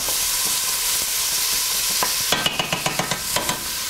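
Onions fry in a pan for curried goat, a steady sizzle running throughout, with a quick run of sharp spoon-on-pan clinks as they are stirred near the end.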